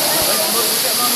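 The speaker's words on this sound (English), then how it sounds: "This is Tennessee waterfall inside of the mountain." A large waterfall inside a mountain cave in Tennessee roars as a loud, steady rush of falling water filling the whole space without pause.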